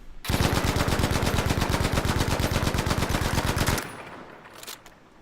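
Battlefield V machine gun fired off the bipod on a shooting range, one loud sustained automatic burst of rapid, evenly spaced shots lasting several seconds, then stopping abruptly and leaving a fading echo and faint noise.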